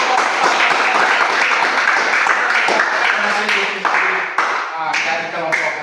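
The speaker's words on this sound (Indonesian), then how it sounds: "kita tepuk tangan" A class of schoolchildren claps together in a classroom, a dense, steady patter that carries on for several seconds while voices talk over it.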